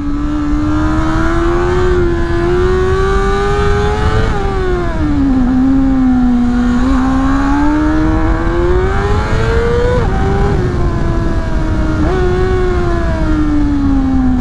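A Honda CBR 600 RR 2024 sport motorcycle engine while riding through bends, a loud, close, continuous high-revving whine that rises and dips with throttle and gear changes, alone without talk.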